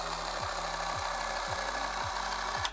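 A Ryobi 18V cordless caulking gun's motor runs at a higher speed, a steady low hum with a rhythmic pulse repeating about every half second, ending in a short sharp click.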